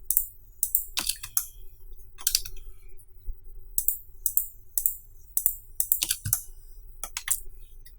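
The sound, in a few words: computer keyboard typing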